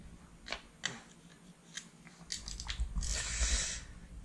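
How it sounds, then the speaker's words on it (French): Cylinder head screws on a Yamaha Banshee 350 quad are loosened with a tool: a few sharp, close metallic clicks and taps, then a brief rough, gritty burst as a screw breaks free. "on va commencer par desserrer toutes les vis de la culasse"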